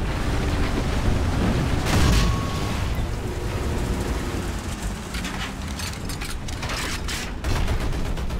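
Rapid, dense gunfire from tanks in War Thunder, a sustained loud crackling barrage with heavy low rumble and a couple of bigger booms, continuous throughout with no talk.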